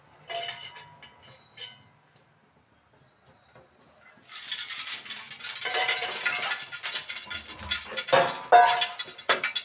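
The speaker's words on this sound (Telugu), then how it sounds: "ముందుగా ఆయిల్ పోసుకోవాలి." Cooking oil poured into a pan for bean curry, starting with a few quiet taps and clinks, then a steady close hissing stream that continues to the end.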